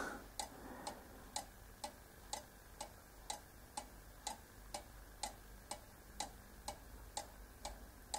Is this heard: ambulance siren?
no